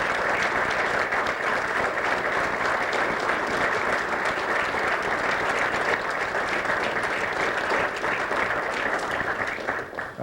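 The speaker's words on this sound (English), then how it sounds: "give them a round of applause for their hard work" A large audience applauds steadily and loudly for about ten seconds at a city council meeting, the clapping fading slightly at the very end.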